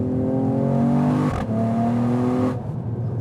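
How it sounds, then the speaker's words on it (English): A Mercedes-AMG E53 Coupé accelerates hard in manual Sport Plus mode, its engine note climbing steadily and then dropping sharply twice as the 9-speed gearbox shifts up, loud and close inside the cabin. "I want to test the 9-speed gearbox shift changes while we're doing the handling aspect."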